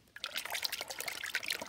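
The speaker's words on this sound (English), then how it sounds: "Time to wash the brush." A paintbrush swished and rinsed in a big bucket of water after painting, giving close, continuous sloshing and trickling splashes for a short burst with no talk.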